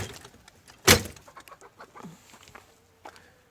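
Chickens cluck and murmur nearby in a coop, with one sharp loud bang or knock early on and soft rustling between the calls.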